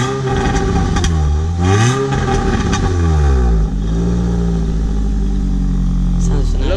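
Nissan Sentra SE-R Spec-V engine with newly installed headers, revving repeatedly, its pitch sweeping up and falling back in loud, close, raspy surges, while people talk nearby.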